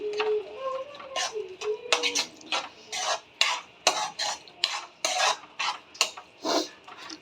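Lentil dumpling curry is stirred in a pot with a metal spoon, giving a run of close, irregular scraping clinks and knocks against the pot, one after another for several seconds.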